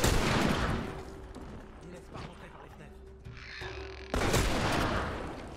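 Gunfire in The Last of Us Remastered, a loud burst at the start and another near the end, with quieter game sounds and a low hum in between.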